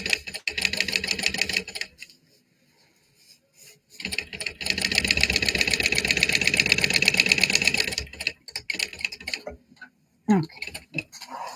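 A sewing machine stitching through waterproof canvas in a lunchbox project, running in fast, rhythmic bursts with short pauses between runs, fairly loud and close.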